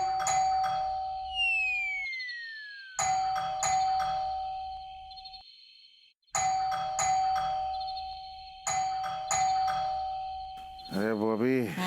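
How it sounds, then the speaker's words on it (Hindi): An electronic ringtone chimes in repeated tonal bursts separated by short pauses, loud and close, ending in a warbling trill. "अरे मोबाइल बज रहा है तुम्हारा, बंद करो।"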